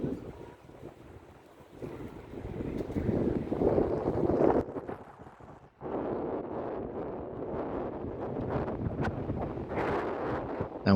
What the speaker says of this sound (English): Very, very strong breeze, and it was absolutely bitterly cold.